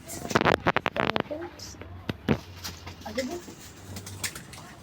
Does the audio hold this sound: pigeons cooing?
yes